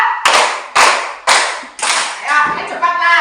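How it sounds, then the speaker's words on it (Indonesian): A group claps hands together in a counted rhythm during a classroom warm-up, four sharp, loud, evenly spaced claps with voices joining in near the end. "Tepuk 1, tepuk 2, tepuk 3"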